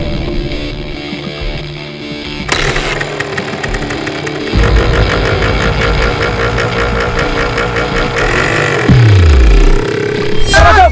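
A motorbike engine runs close by, an irregular chugging idle that steps up into a louder, harsher rattling hum partway through, with a brief falling tone and a sharp noisy burst near the end.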